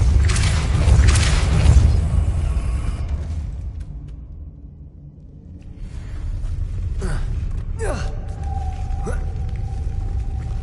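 The Depulso force-push spell is cast in the video game Hogwarts Legacy, giving a deep rumbling whoosh that swells, dips into quiet and then returns as a mechanical creaking and groaning rumble with scattered clanks.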